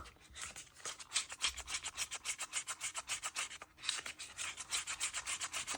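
A stick stirs colored resin, tinted a milky white for a Larimar-effect piece, in a cup. It makes steady, rhythmic scraping and rubbing strokes, several per second, close and fairly loud, with a brief pause partway through and no talking.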